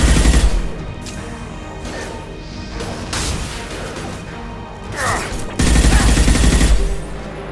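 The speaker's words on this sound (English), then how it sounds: "Taking fire!" Gunfire in Mass Effect 2: heavy bursts of shots and crashing impacts in a loud firefight, rising again near the end, with occasional voices beneath the clamor.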